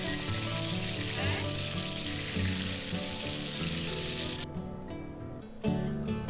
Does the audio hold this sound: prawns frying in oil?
yes